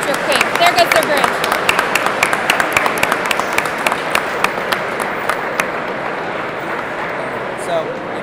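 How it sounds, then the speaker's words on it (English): An audience at a student engineering conference claps for a student steel bridge team, with sharp individual claps standing out over a dense crowd and voices talking underneath; the applause thins toward the end. "Let's clap for your bridge real quick."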